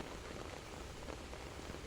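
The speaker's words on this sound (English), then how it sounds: "Little raindrops fall on the window." Soft steady rain patters on a window, a faint dense hiss of tiny drops with no pauses.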